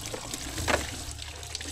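Water poured over Mahindra tractors during an Ayudha Puja celebration, a soft continuous splashing trickle with one brief brighter gush, close up over steady outdoor background noise.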